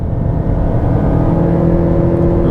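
A Lexus NX accelerates with the throttle floored, giving a loud, steady engine drone that holds a strained, unchanging tone for a couple of seconds, close up from inside the car with no talking.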